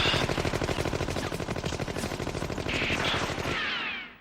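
Rapid automatic gunfire from a gun in an animated fight scene: a loud, continuous stream of evenly spaced shots lasting several seconds before cutting off abruptly.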